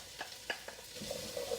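Diced zucchini, carrots, garlic, onion and red pepper sauté in a pan for a vegetable soup, with soft sizzling and a few brief scrapes of stirring, close and fairly quiet.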